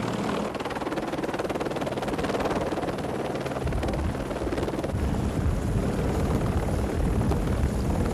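A helicopter's rotor runs on a ship's flight deck, with loud, continuous, chopping rotor and engine noise throughout and no voices.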